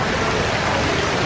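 Steady rain pours onto a city street in Ho Chi Minh City as a dense, even hiss with no breaks, close and fairly loud throughout the short stretch, with no voices.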